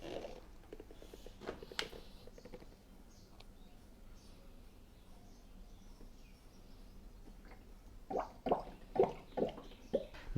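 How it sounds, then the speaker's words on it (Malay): Used engine oil from a Perodua Myvi is poured slowly through a funnel into a bottle, with soft irregular drips and plops that turn into louder gurgling glugs toward the end. "kita tuang minyak hitam ini ke dalam botol. Gunakan funnel."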